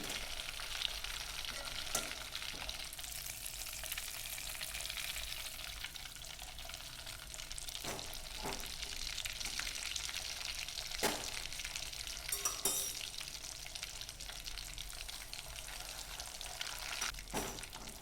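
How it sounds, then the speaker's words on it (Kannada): Hot ghee sizzles and crackles steadily after water is added, with scattered sharp pops breaking through the hiss; no one speaks. "ಈ ತುಪ್ಪದಲ್ಲೂ ನೀರು ಹಾಕಿದಾಗ ಅದೇ ಥರ ಸೌಂಡ್ ಬರುತ್ತೆ"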